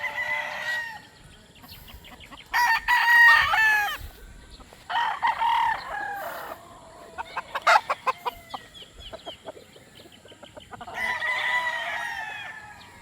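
A bullstag rooster crows several times at close range with loud, drawn-out calls separated by pauses, and softer clucks and bird noises in the gaps between crows.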